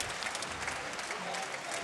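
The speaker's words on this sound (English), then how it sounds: "The crowd here applauding the efforts of both Liam, the Hitman Harrison, and Mohamed Khamal." Crowd applauding after a welterweight Muay Thai fight at an MPL event, a dense, even wash of clapping heard from a distance at low level.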